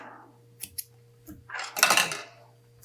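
Scissors snipping thread on a decorative fishing rod wrap: a couple of close, quiet metallic snips, then a longer scraping cut, with faint background hum.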